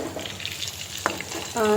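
Chicken frying in a pan on a home stove for biryani, a low steady sizzle with a sharp click partway and a brief louder tonal burst near the end.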